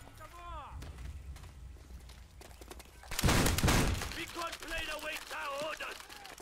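Shotgun and MP40 gunfire in Call of Duty: World at War, a sudden loud burst of shots and impacts midway amid quieter game effects, with someone talking over it.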